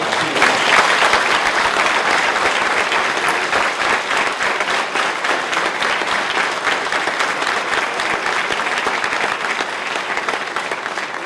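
An audience at the Vibrant Gujarat Global Investment Summit young entrepreneurs' meet breaks into sustained, loud applause, a thick wall of clapping that stays even throughout with no speech.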